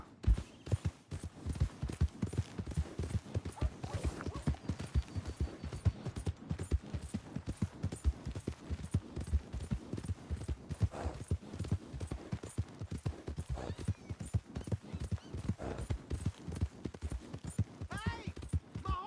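A horse in a cowboy video game clip-clops steadily at a walking pace, its hooves close and rhythmic throughout, with light ambient game sound behind.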